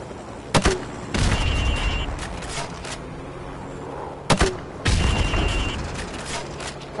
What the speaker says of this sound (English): now pop a grenade into windows 5,